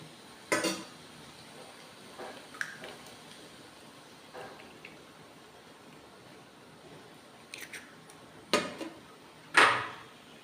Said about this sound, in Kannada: ಇದಕ್ಕೆ ನಾನು ಮೊಟ್ಟೆನ ಹೊಡೆದಾಕೊತಾ ಇದ್ದೀನಿ